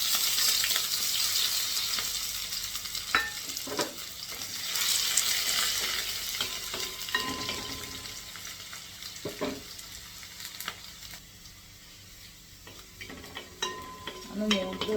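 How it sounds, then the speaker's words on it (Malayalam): Chopped green chili, ginger and garlic fry with mustard seeds in hot oil for a fish curry, giving a steady, close crackling sizzle with occasional stirring scrapes and clicks throughout. "കടുക് പൊട്ടി കഴിയുമ്പോൾ നമുക്ക് പച്ചമുളക്, ഇഞ്ചി, വെളുത്തുള്ളി അരിഞ്ഞ് ഇട്ട് കൊടുക്കാം"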